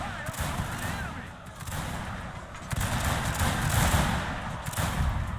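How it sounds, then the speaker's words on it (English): Hessian infantry volleys at point-blank range in Shogun 2: Fall of the Samurai, dense overlapping musket fire crackling in rolling waves with thuds beneath, loud and sustained, with a voice talking over the battle. "they finally stopped and opened fire at point-blank range, which is what you see them doing right now"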